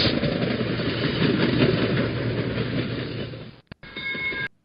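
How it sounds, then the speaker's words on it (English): A recorded train passing, a steady rolling rumble with a rhythmic clatter of wheels over rail joints that runs for several seconds, then cuts off abruptly, followed by a brief burst of ringing tones. "the train has a very specific ongoing rhythm to it"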